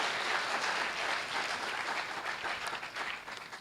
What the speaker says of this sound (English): Shall we give her a thunderous applause for doing this for us?